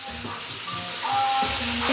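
Large shrimp sauté in a hot pan, giving a steady close sizzle that grows slightly louder over a couple of seconds, with faint tonal squeaks from the pan.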